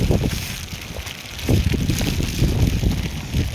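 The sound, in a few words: strong wind on Annapurna Base Camp trek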